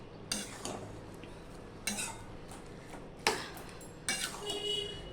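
A utensil stirring sugar into pumpkin greens with mung dal in a pan makes four separate bursts of loud scraping and clinking, evenly spaced, with no talk.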